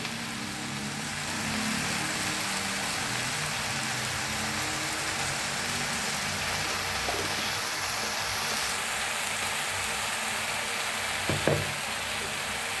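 Spring onion greens with salt are stirred in a kadhai, sizzling continuously with a dense, rain-like hiss and an occasional scrape near the end.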